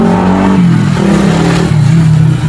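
A Fujidenzo kitchen range hood fan whose motor had been stuck, now powered on and spinning, giving a loud, steady close-up motor hum with a low tone that wavers slightly in pitch, with no voices.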